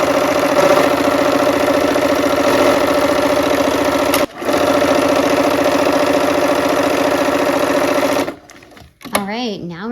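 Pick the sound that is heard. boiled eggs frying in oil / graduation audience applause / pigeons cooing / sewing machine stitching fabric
sewing machine stitching fabric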